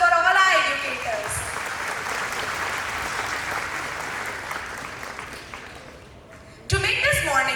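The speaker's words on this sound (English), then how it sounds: "A huge round of applause for all our educators." Crowd applause at a school annual day, sustained clapping from a large audience for the teachers, fading gradually before a brief fresh burst at the end.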